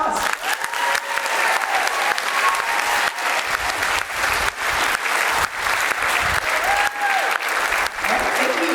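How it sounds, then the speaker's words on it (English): Audience clapping at a school band concert for three students chosen for the PMEA festival, loud dense applause from a crowded room that holds steady throughout, with voices mixed in. "So give them a round of applause."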